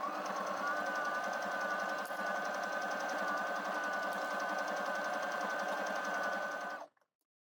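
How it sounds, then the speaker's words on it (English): A sewing machine stitching a fringe dress from the wrong side, running steadily and close for about seven seconds with an even rapid needle rhythm before stopping abruptly. "I'm going to sew from the wrong side, but you can tack it in place and sew from the right side if you prefer."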